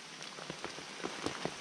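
Rain falling in a forest, a steady hiss of drops with scattered louder patters landing on leaves and wet ground, fairly faint and close, with no voices.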